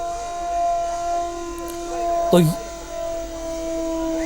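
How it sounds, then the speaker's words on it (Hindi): A steady wailing air raid siren tone, sounded as a mock drill test, holds under a speaking voice, with a brief sharp noise partway through. "इस दौरान एयर रेड सायरन का परीक्षण किया गया।"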